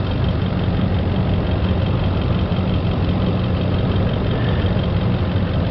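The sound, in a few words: Nissan Armada or Titan engine idling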